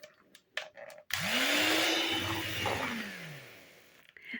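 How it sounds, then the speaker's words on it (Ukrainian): An electric hand mixer whips soft butter until it turns pale and fluffy, starting after a second of quiet clatter with a loud, steady motor whine that rises in pitch, then slowly dips and fades toward the end. "м'яке вершкове масло і збиваю його до біла"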